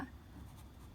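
Soft, faint scratching of a pen or pencil writing on paper while working a grade 6 math exercise on circles, a steady quiet scrape lasting about a second with no voices.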